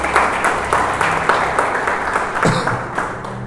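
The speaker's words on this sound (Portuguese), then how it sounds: "Se você crê, aplauda Jesus por isso" A church congregation breaks into applause after a prayer, a dense spread of clapping that swells and fades with a few bursts of cheering mixed in.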